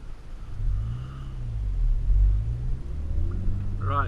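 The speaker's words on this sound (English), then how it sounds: "Let's go out in a drive in it" A Volkswagen Mk6 Golf GTI on the road, heard from inside as a low steady engine rumble that rises and falls with acceleration and gear changes.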